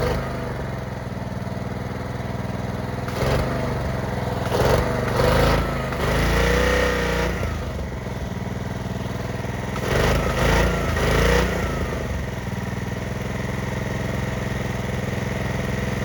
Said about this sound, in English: I was revving the engine from over there.